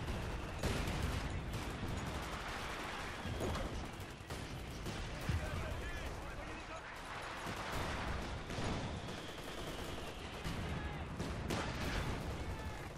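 Rifle grenade launches amid a dense Company of Heroes 2 battle, the shot buried in continuous artillery rumble and gunfire crackle with a voice speaking over it.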